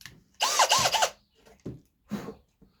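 A power drill bores a hole in wood for a birdhouse perch, giving one loud close whirring burst of about a second that revs up and down, followed by a few faint clunks and handling noises.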